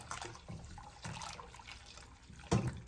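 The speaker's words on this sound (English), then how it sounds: "grab your hot water and pour in there" Hot water pours into a cooking pot while nshima is being made, a quiet, continuous liquid splash and trickle heard from close by, ending in a brief louder splash near the end.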